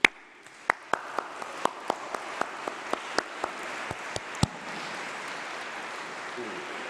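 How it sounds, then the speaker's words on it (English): A graduation congregation audience in a large hall gives a round of applause: a dozen loud, distinct claps ring out at a steady rhythm, then blend into a softer, continuous wash of clapping that carries on. "So please stand up and give them a huge round of applause."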